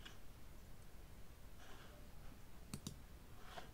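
Two quick computer mouse clicks sound close together, soft and close, against a faint steady background hiss.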